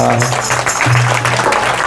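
An audience claps during a Hindi sermon at a Ram temple in London, a close, dense patter over a sustained low musical drone.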